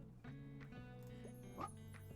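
A cartoon puppy in the cozy video game Tiny Bookshop gives short, high yips and barks over a soft, steady musical background, all fairly quiet.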